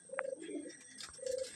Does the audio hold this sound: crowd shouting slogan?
no